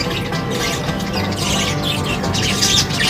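Pet budgerigars chirping and twittering continuously at close range, with bright rapid calls over a steady busy background and no talking.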